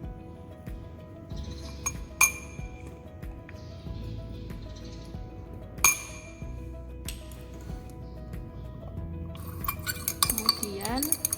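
Lab glassware clinks and rattles while a watch glass is rinsed with a little distilled water, with sharp bright taps scattered over a steady background and a busier run of clatter near the end.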